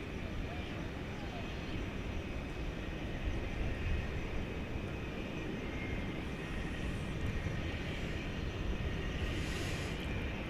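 An American Airlines jet, flight 1552, takes off from runway 18 left at DFW Airport at night, heard as a steady, broad engine roar that stays loud and unbroken throughout.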